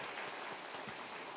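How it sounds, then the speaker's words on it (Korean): Soft, distant applause from a church congregation during a Sunday worship service, a faint, even patter of clapping that continues without a break and with no voices over it. "우리 박수로 환영하겠습니다"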